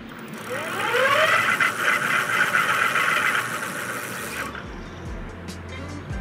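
A Bafang 750 watt electric motor on a folding e-bike accelerates with a steady rising whine for about four seconds before cutting off, followed by faint rustling.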